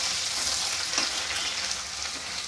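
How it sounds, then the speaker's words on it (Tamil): Dried cluster bean vathal fries in hot oil, giving a steady, close sizzle that holds level for the whole stretch and carries no speech. "அதை போட்டுக்கலாம் போட்டு நல்லா அப்படியே அதில் பொரியட்டும் எண்ணெயிலே பொரிஞ்சிட்ருக்கட்டும்"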